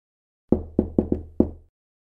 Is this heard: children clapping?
no